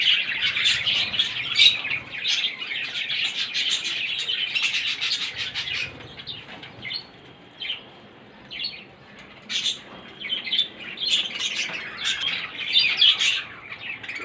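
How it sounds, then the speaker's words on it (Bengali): A colony of pet budgerigars chirps and twitters continuously at midday while feeding, many overlapping bright calls close by, with a few louder squawks and brief wing flutters. "আমার কলোনির বদ্রিরা সব খাবার খাচ্ছে দুপুরবেলায়"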